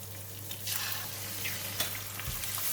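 Egg cracked into a little oil at the side of a pan beside fried shallots, frying with a steady close sizzle and crackle, a few soft utensil taps over a low background hum.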